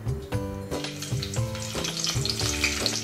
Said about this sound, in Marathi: तेल थोडं तापल्यानंतर लसूण टाकायचं थोडंसं, 1-2 पाकळ्या फक्त चेचून लसूण तो फोडणीसाठी टाकायचा.